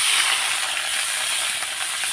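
Onion paste frying in hot oil left after frying hilsa fish, a steady, close, loud sizzle and hiss running without pause, with no voices.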